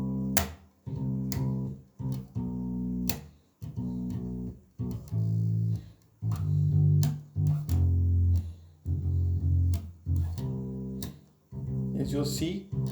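A bass guitar plays a repeating riff of plucked low notes with short gaps between phrases, loud and close, no one talking.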